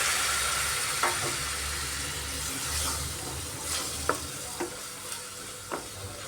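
Cabbage masala sautéing in a pan with a little water added, a steady hiss and sizzle under intermittent sharp clinks and scrapes of a spoon stirring, close and moderately loud.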